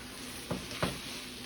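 A spoon stirs minced garlic around a hot pan, making two quick scraping knocks close together over a faint, even sizzle.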